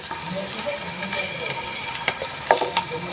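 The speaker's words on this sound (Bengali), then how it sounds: "আর এখানে যে ঘি দিয়ে এগুলো বেজে নিতেছি।" Ingredients lightly frying in ghee in a pan, a steady close sizzle with a few sharp pops and stirring clinks near the end, no talk.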